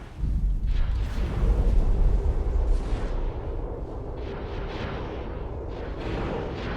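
Heavy ship guns firing in a space combat game with a Star Wars patch, a dense continuous rumble of booming shots that is loudest at first and then settles, with no voices.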